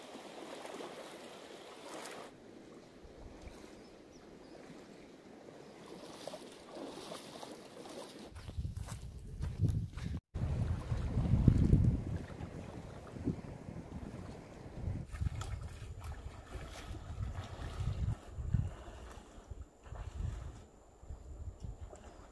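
River water rushes and churns at a trail crossing on the Gila Alternate of the Continental Divide Trail, starting as a soft wash and swelling into louder splashing and sloshing, with wind buffeting the microphone.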